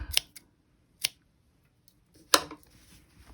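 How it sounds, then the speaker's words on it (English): Scissors trimming yarn ends on a crocheted toddler elf hat, three or four crisp close snips separated by quiet pauses. "I'm going to trim these off."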